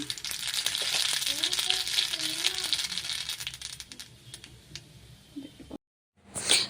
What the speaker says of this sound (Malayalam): കടു ഇട്ട് കൊടുത്ത് കടു പൊട്ടിയതിന് ശേഷം